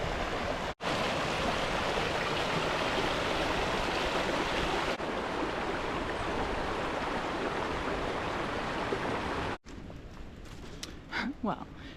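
A small creek runs beside the Waterloo-Pinckney Trail in April, a steady close rushing of water that fills the air, broken by a couple of brief dropouts before it fades under quieter outdoor sounds.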